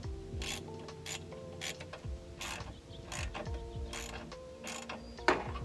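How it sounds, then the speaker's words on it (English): Wrenches tighten nuts on a metal mounting bracket, giving a close run of ratcheting clicks, metallic taps and scraping rubs that come in short irregular bursts with one sharper knock near the end. "we're just going to try to get this as vertical as possible and tighten it in with the wrenches"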